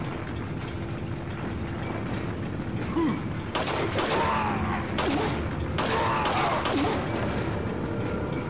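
Gunfire in the video game Resident Evil 4, several loud sharp shots spaced irregularly over a droning ambient background, with a few short vocal sounds between them.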